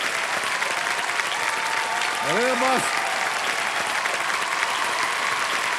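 A studio audience on the TV quiz show Kaun Banega Crorepati, season 15, keeps up loud, sustained applause throughout, and a voice speaks briefly over it.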